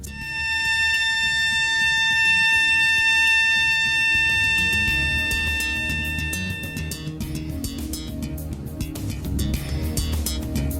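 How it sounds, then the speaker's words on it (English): An oil rig's H2S gas alarm rings a continuous high electronic tone loudly for about seven seconds, then cuts out, leaving rumbling machinery noise and scattered clicks. "the H2S gas alarm,"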